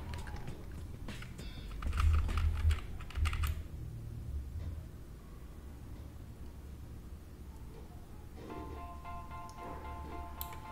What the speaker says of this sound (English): press Ctrl+I on the keyboard to invert the selection